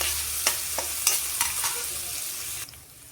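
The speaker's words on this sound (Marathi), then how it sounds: "कांदा घालणार आहोत बारीक चिरलेला आणि याला छान असं परतून घ्यायचं आहे खरपूस होईपर्यंत" Finely chopped onion sautés in a pan, a soft sizzle broken by several sharp scraping stirs in quick succession before the sound drops off near the end.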